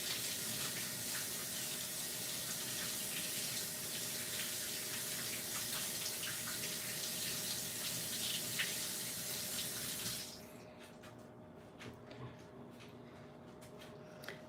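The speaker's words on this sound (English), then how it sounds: "Let me wash my hands off." Tap water runs steadily into a kitchen sink as hands are washed while making homemade gnocchi, a close continuous splash that stops abruptly near the end, leaving faint room sounds.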